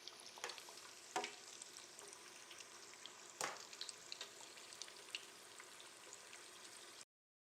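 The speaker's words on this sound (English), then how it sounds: "We're going to take some of our shrimp, drop them into the oil." Coconut-breaded shrimp frying in hot soybean oil, a faint, steady crackle and bubbling with scattered sharper pops, heard alone without talk before the sound cuts off.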